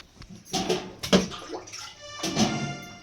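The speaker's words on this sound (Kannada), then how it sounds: "ಒಂದು 6 ವಾಟಿಗೆ ನೀರು ಇದ್ರೊಳಗೆ ಹಾಕೊಂಡ್ರಿ" Cold water splashes from a cup into a cooking pot in three short pours, close and clear.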